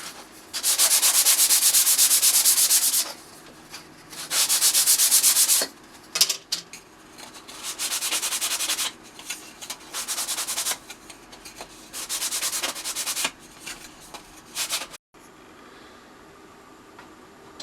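Sandpaper rubs across the surface of a handmade wooden tray for a leather toolbox in bursts of loud, close, rhythmic scratching strokes separated by short pauses, then stops to near quiet.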